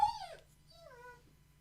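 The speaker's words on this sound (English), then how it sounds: "I don't know if you guys can hear our puppy in the background." A five-and-a-half-month-old German Shepherd puppy whimpers faintly in the background indoors, two thin rising-and-falling whines separated by a short pause.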